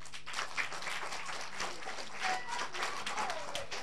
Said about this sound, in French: Donc si c'est les tigres, applaudissez très fort.